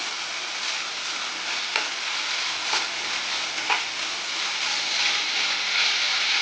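Avalakki (flattened rice) fries in a pan with a constant close sizzle, broken by a few soft scraping strokes of stirring at irregular intervals.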